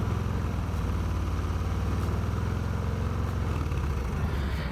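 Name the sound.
Harley Davidson engine revving, Cobra El Diablo 2-into-1 exhaust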